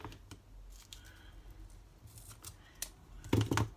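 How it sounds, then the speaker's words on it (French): Scissors cut through card during greeting-card crafting with a few quiet, close snips, spread out, and a louder cluster of snips near the end. "je découpe, je vais prendre un ciseau"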